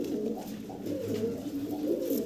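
A breeding pair of pigeons cooing steadily and close by, low rolling coos running together without pause, with no talk over them.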